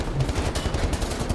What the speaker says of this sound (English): Into him go the freaking laser bullets!